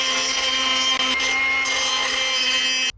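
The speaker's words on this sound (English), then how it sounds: "I'm going to die grind that thing out and then put the jack in." A die grinder whines at high pitch while grinding out a steel jack brace on a horse trailer, a steady shrill tone with one brief dip near the start before it cuts off abruptly at the end.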